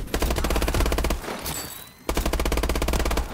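Rapid automatic machine gun fire in Call of Duty, a loud sustained burst of rhythmic shots, a brief pause with a softer rattle, then another long burst, close and dominant.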